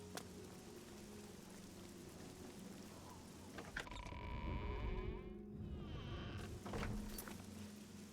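Rain in the video game Oblivion, a soft continuous patter and hiss of falling drops, faint and steady, briefly interrupted by a short shift in the ambience midway.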